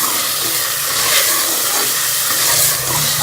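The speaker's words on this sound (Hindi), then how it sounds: "अब मैं इसमें पहले पोर्क को शामिल करूँगी और इसको 2 से 3 मिनट भून लूँगी" Pork frying in spiced masala gives a steady, loud hissing sizzle with a bright steamy texture that holds evenly throughout, with no voices.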